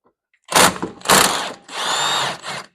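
Bursts from a power impact tool ratchet loudly nearby, breaking free 14 millimeter bolts on a Subaru during brake and wheel bearing work, three rattling bursts with short pauses between.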